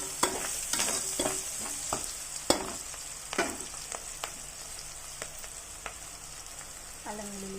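Curry leaves frying in a pan for a gourd and soya chunk curry: a continuous bright sizzle with repeated spatula taps and scrapes, irregular clinks ringing out over the hiss, close and fairly quiet.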